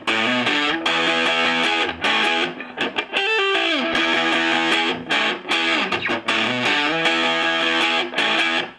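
Distorted electric guitar plays a groovy riff in loud, continuous chugging phrases with short breaks and a sliding bend in the middle.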